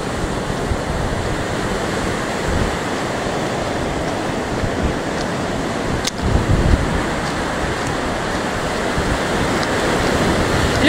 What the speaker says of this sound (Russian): Здесь тоже сильный ветер внизу.